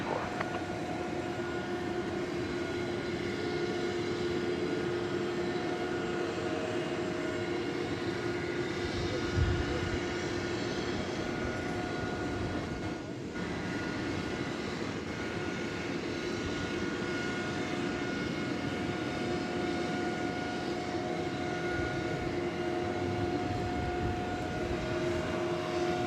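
Airliner approaching to land on runway 18 right at DFW airport, a steady broadband engine roar with faint whine, continuous and fairly loud at middle distance throughout, no voices.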